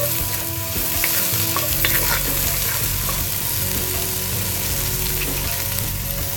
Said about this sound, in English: go ahead and add your curry leaves.